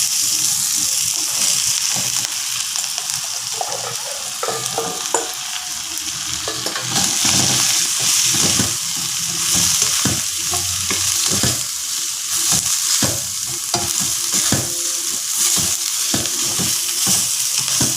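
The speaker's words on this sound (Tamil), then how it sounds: "கொஞ்சம் ஸ்டர் பண்ணிக்குவோம். இப்போ பட்டன் மஷ்ரூமை போட்டுக்குவோம்." Button mushrooms fry in a hot pan with a steady close sizzle, while a utensil stirs and scrapes them in irregular bursts of clatter throughout.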